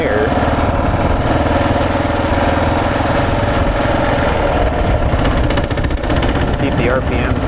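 Kawasaki KLR 650 dual-sport motorcycle on 80/20 street tires churning through deep sand, its engine held at low revs in a steady, loud, close drone that runs unbroken for the whole stretch.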